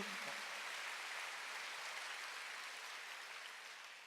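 A church congregation applauds with steady, even clapping that holds throughout and eases off slightly toward the end, fairly soft and with no voices over it.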